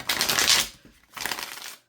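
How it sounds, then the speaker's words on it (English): Tarot cards are shuffled in two quick bursts of crisp riffling and flicking, close and fairly loud, with a short pause between them and no voice. "I feel compelled to shuffle one more time."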